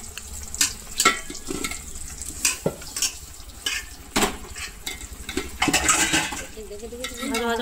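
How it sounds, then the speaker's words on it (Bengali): Rice is stirred and fried in a pot for pulao, with scraping and clattering strokes and a soft sizzle beneath, close by, while people talk intermittently in the background. "পোলাও করার জন্য চালটাকে ভালো করে ভেজে নেবে।"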